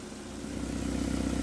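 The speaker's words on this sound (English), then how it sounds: "press and hold the green start button to start the engine" A diesel pump engine turns over and settles into a steady idle, its low rumble growing slightly louder and more even over a second and a half, with no talking.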